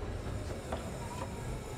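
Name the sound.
train on depot tracks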